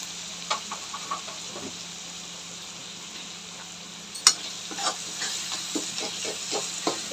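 Onions and tomatoes with masala sauté in a pan, giving a soft steady sizzle broken by a sharp clink and intermittent scraping stirs of a spoon against the pan.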